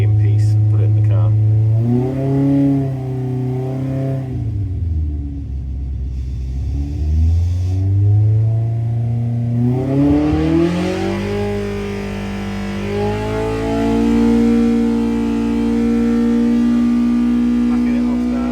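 A high-performance engine on a dyno, loud and close, revs up through sweeping pitch climbs, drops back to idle, then climbs and holds a steady high load; a voice talks briefly over the engine.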